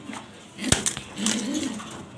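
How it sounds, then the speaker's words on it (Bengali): A female Milinor pigeon sitting with her chicks gives a few soft, low cooing calls. Brief sharper rustles and clicks sound nearby, and faint background noise runs underneath. "দেখতে পারতেছেন মিলিনর কবুতর এটা মাদি কবুতর মাদিটা বাচ্চা নিয়ে বসে আছে"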